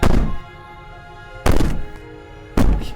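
Three heavy, booming thuds of someone banging on a wooden door in the video game Slay the Princess, spaced about a second apart, loud and close with a ringing decay after each blow.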